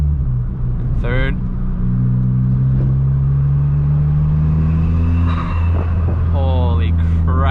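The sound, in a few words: widebody big turbo Ford Fiesta ST engine revving loudly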